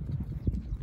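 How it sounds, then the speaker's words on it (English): A horse running off during wild cow roping, hooves clip-clopping in a quick, steady, low thudding rhythm on the ground, fairly close, with no talk. "There goes Nick's horse."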